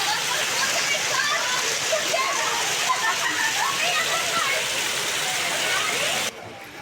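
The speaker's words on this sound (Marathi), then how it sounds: "रस्त्याने पाणी वाहत आहे." Heavy rain pours down steadily on a road in Ratnagiri with water running along the street, a dense, loud hiss filling the whole stretch before it drops off abruptly near the end.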